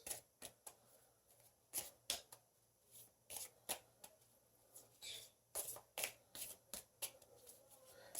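A deck of tarot cards being shuffled by hand, a steady run of crisp riffling and slapping bursts, close and soft with no talking.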